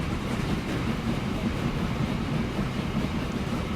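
A train rolls along in the rail-building game Transport Fever on an American Pittsburgh map, a continuous low rumbling drone with faint rattle, steady and unbroken with no talking.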